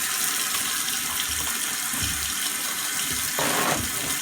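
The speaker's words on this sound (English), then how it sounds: "Leave the water running." Tap water runs steadily into a sink during handwashing in a home child care setting, a continuous close splashing hiss with faint shifts in the flow and no talking.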